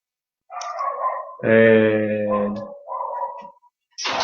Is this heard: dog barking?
yes